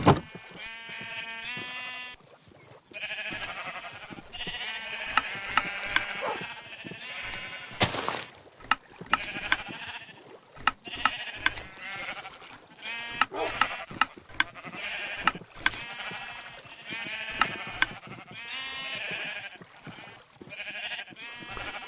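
Minecraft sheep on a wool farm bleat repeatedly in short harmonic calls, several overlapping and fairly close, with busy game sounds and clicks between them.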